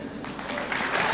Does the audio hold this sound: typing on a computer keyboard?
no